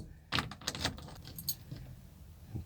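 Keys jangle for a 1966 Ford Econoline camper, a loud burst of metallic rattling shaken several times up close, then lighter clinks trailing off as the keys are handled.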